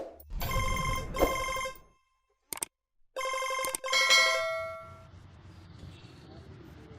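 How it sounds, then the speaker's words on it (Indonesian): A telephone rings with a bright, metallic bell in two bursts separated by a short silence, the second trailing off into a quiet room with faint background sound. "Telepon."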